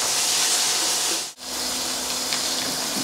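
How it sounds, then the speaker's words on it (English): Fish and garlic fry in oil in a pan with a steady, loud, close sizzling hiss. The sound cuts out briefly for a moment, then resumes just as strongly. "that's just sizzling away nicely"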